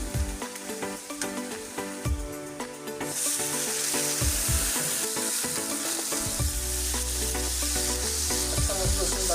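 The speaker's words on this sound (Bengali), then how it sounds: "পেঁয়াজটা বেস্তা করে নিতে আসি।" Onion fries until browned in a pan, a steady close sizzle and crackle with occasional stirring scrapes, playing under prominent background music that swells midway.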